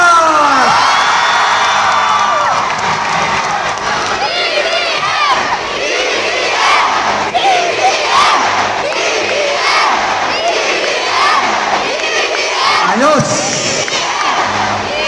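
A large outdoor crowd at a Bongbong Marcos presidential campaign rally in Oriental Mindoro roars with sustained cheering, whoops and shouts, loud and continuous, with scattered voices rising above the mass of noise.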